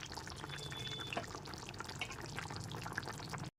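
Chicken and potato curry with garam masala is stirred in a pot, giving soft, continuous wet sloshing and light scraping up close, with a gentle sizzle beneath.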